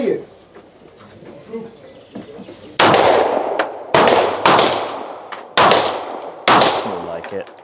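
A SIG P210 9mm pistol fires five loud, sharp shots at a 25 m outdoor range, spaced about a second apart, after quiet ambience with birds.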